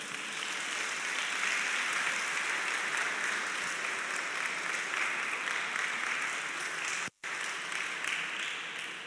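Children and a gathered audience applaud their teachers at an end-of-year exam ceremony honouring top graduates: a dense, steady roar of clapping filling about nine seconds, with one sudden momentary drop near the end.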